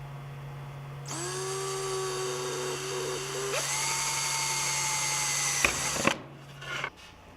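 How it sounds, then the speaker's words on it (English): Power drill boring 1/8 inch holes in a cover, with a steady motor whine that rises in pitch as the bit cuts through, stops abruptly, then a few clicks and small handling noises follow. "Drill the holes in the cover first."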